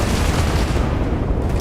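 Auto turrets firing in the space game Starfield, a dense loud barrage of booming shots and blasts that blurs into a continuous roar with no clear gaps.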